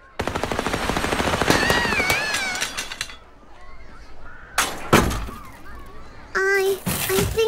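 Real-bullet gunfire in Little Misfortune, rapid machine-gun bursts with rattling shots and glassy breaking impacts, a voice talking between and over the bursts.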